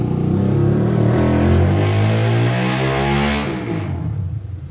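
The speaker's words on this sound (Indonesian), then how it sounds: "ada suara sepeda motor yang nyaring karena rumahnya di pinggir jalan" A loud motorcycle goes past on the street outside a roadside house, its engine drone rising and then fading as it passes, heard clearly with no talking.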